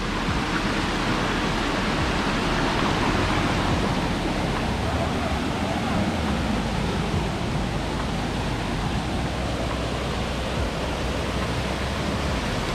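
A waterfall near Moolamattom in Kerala drops from a good height. Its steady, broad roar of falling water carries on unbroken and fairly loud throughout, with a windy rush over it.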